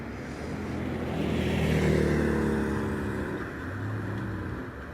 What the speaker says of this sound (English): here comes Richard Andrews down to the start area in his Porsche